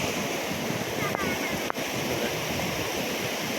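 Continuous roar of waves washing ashore with strong wind buffeting the microphone and a couple of brief knocks; a voice may murmur faintly underneath.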